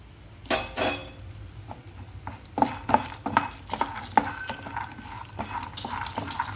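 Cumin seeds frying in a pan while preparing peanut chutney, with irregular clinks and scrapes of a metal spoon stirring against the pan over a faint sizzle.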